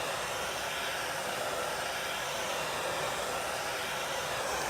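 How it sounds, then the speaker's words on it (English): A household hair dryer being used as a heat tool for a wooden door sign craft, blowing loudly and steadily up close as an unbroken, even hiss and whoosh that fills the clip. "I'm just going to take my hair dryer."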